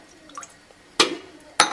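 Water added to a frying pan on a stove set to medium heat, two short splashing pours heard close by, with quiet faint sounds before them.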